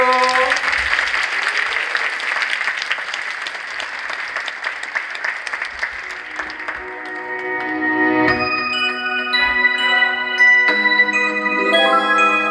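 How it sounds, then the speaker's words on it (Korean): A concert-hall audience applauds loudly as a multicultural youth choir of migrant children takes the stage at a church-organized choral competition; the clapping thins after about six seconds and a sustained piano chord and tones ring out beneath the fading applause. "여러분 큰 박수로 맞아 주십시오"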